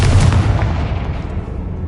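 Confringo fire spell cast in Hogwarts Legacy, a loud low booming blast that hits at once and rumbles away over about two seconds, with no voices.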